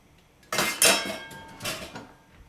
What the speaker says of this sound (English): I'm going to grab the lid for this pot.